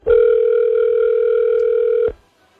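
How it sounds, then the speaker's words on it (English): A single long telephone ring tone, a steady electronic beep held for about two seconds, loud and clean with no talk over it, ending abruptly. "One ring."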